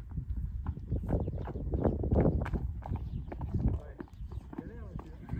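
A horse walking on a trail in the Vosges, hooves clip-clopping in a steady rhythm close by, with people talking over it throughout.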